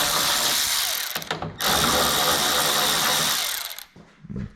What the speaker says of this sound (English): You're gonna want a nice thin socket for this.